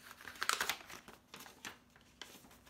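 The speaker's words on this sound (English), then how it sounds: "So I'm gonna show you as I open that package." Crinkling and tearing of paper and packaging as a mailed package is opened and a card inside is pulled out, with clustered rustles that are loudest early, then scattered lighter crinkles.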